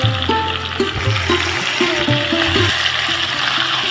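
Taro fries in hot oil with dried red chillies and white cumin, a steady close sizzle with a low bubbling rumble and some intermittent pops.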